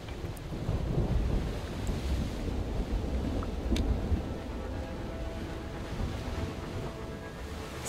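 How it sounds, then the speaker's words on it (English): A storm at sea with wind against the current and rising waves gives a continuous rumbling roar of wind and surf, loud and unbroken, without voices. "The wind was blowing against the current, the waves were climbing higher with every minute"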